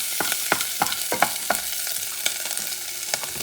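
Leftover turkey white meat fries in a pan with a continuous sizzle, punctuated by frequent crisp scrapes and taps of a spatula stirring it, near and clear with no speech.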